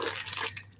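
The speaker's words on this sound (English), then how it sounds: "Opening a new container of sprinkles." A new plastic container of sprinkles is opened with a short crinkling, crunching tear of the seal, fairly quiet and close, with no talking.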